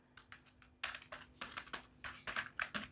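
Typing on a computer keyboard while entering fields in Tally Prime accounting software, a run of quick close clicky keystrokes in an uneven rhythm, with a brief pause before a faster burst.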